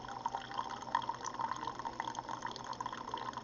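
A Keurig coffee machine brewing, with a steady trickle of liquid filling a cup and faint dripping, quiet and continuous with no talk.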